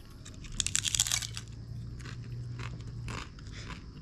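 Crunchy loaded nachos in a Mexican-style dish are bitten and chewed close up, with a burst of loud crackling crunches followed by softer chewing over a low hum.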